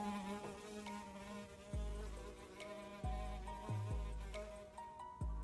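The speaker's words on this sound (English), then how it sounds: "There's a bee in here, or a fly in here or something." A bee or fly buzzing around indoors, its whine rising and falling as it passes close, with several swooping dips in pitch, heard alone without talk.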